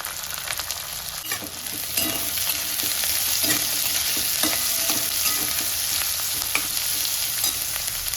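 Mustard seeds, cumin, finely chopped garlic, green chili and onion fry in hot oil in a kadhai, giving a steady close sizzle and crackle with occasional stirring clatter, growing slightly louder partway through.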